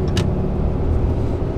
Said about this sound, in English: That's the diesel exhaust brake